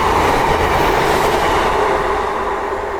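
A train speeds through a station near the Lisvane and Llanishen area of Cardiff without stopping, a loud, close, steady roar and rattle of wheels on rails sustained throughout.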